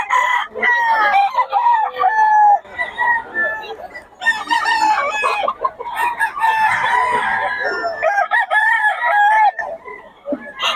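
Several roosters crow repeatedly and hens cluck close by at a chicken sale, the calls overlapping loudly in bursts, with some people talking in the background.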